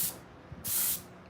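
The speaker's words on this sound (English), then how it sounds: "Now that was full on spray, everything I had." Airbrush sprayed at full flow, a short hiss followed by a louder, sustained burst of close, airy spray lasting under half a second.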